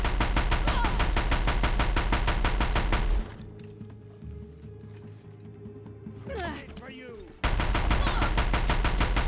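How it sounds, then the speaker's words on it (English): Rapid autocannon fire in a mech video game rattles in two loud sustained bursts, with a quieter stretch of game sounds between them. "It was a good autocannon."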